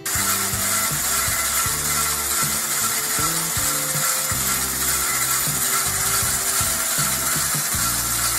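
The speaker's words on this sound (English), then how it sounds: "At the moment, the hoist is in operation." A Meccano model crane hoist driven by a small 12 volt motor through reduction gears, a chain drive and a gearbox, giving a loud steady mechanical whir with a stuttering, clattering gear rhythm running continuously.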